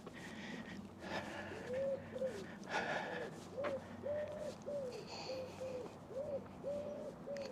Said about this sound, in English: You can hear birds as well.